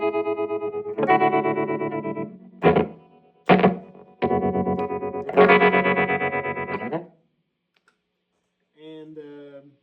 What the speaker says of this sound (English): And super choppy tremolo.